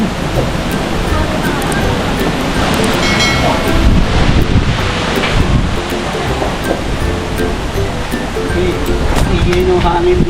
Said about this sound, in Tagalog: Lakas naman ng hangin dito.